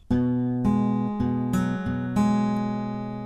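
Acoustic guitar fingerpicking, with bass notes and a quick run of picked notes, five or six distinct plucks in an even rhythm that ring together and fade at the end, played alone without talking.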